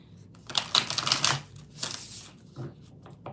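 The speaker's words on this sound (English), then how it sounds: "2 more shuffles." A deck of oracle cards being shuffled by hand, two bursts of crisp riffling and flicking with a short pause between, close and fairly clear with no talk.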